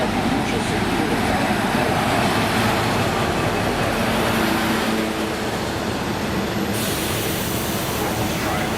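V/Line passenger train arriving at Waurn Ponds platform, a loud continuous rumble and roar of the train close by that eases slightly toward the end.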